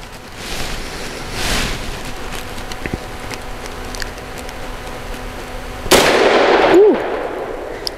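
A Grand Power P45L pistol fires a single Liberty Civil Defense .45 round: a sharp, loud crack that breaks a quiet outdoor background of soft hiss and faint rustle, then decays over about a second.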